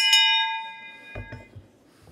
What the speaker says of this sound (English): is a school bell.